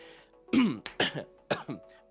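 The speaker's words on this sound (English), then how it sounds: "Sorry for the coughing." A short bout of close, throaty coughing: three or four harsh coughs in quick succession, loud against a quiet background.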